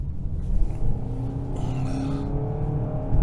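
A 2022 Hyundai Santa Cruz pickup with the 2.5 engine pulling away under throttle, a steady low engine drone rising in pitch as revs build, heard close from inside the cabin with road rumble beneath.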